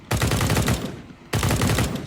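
Two rapid bursts of automatic rifle fire from the video game CSGO, each a loud close spray of shots lasting under a second, separated by a short pause.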